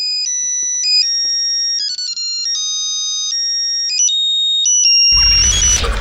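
A loud electronic phone ringtone plays a stepping melody of pure beeping tones for about five seconds, then ends in a burst of broadband noise.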